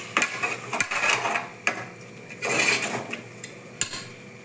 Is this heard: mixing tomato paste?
yes